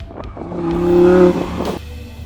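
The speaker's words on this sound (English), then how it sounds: "On that sweet engine note, it's time to wrap up CarWale Track Day 2018." An Audi R8 engine revs up on a race track, its harmonic note rising to a peak and then dropping off, loud and close, with a brief whoosh near the end.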